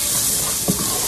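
Spices and herbs for a Hyderabadi green chicken curry fry in a pan with a steady, close sizzle. A brief soft clack from stirring is heard, and no voice is present.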